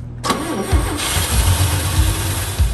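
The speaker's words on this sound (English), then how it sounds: "We actually got it running within a day of getting it here, just to make sure everything was working as it should." A 1958 Chevy Apache truck engine cranks and fires, then settles into a loud, rough, uneven idle with throbbing low rumble close by.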